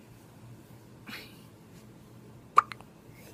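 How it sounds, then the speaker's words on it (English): Short hiccup-like sounds from a person with hiccups, one faint catch followed later by a sharper, louder hiccup with a quick small echo, in an otherwise quiet room. "Do you have the hiccups?"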